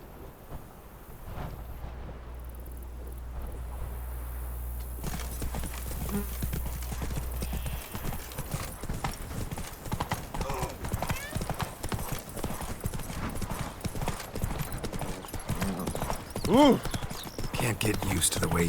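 Roach, Geralt's horse in The Witcher 3, gallops with rapid rhythmic hoofbeats that grow steady after a slower start. Wind and a brief whinny can be heard, along with some faint game audio.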